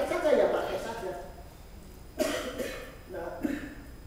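During a training lecture a man coughs twice, brief rough bursts close to the microphone, set between stretches of his speaking.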